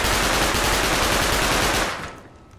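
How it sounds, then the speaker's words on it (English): Rifle in the video game Rust emptying a magazine of incendiary ammo: loud, rapid, continuous automatic fire lasting about two seconds before it stops abruptly. "Let's go ahead and fire off a mag and see what it does."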